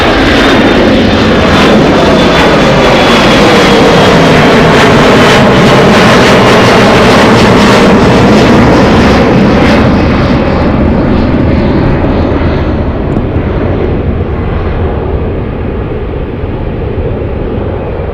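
A UPS cargo jet roars loudly and steadily at Anchorage airport, a broad sustained engine rush that holds strong before easing slightly toward the end, with no talk over it.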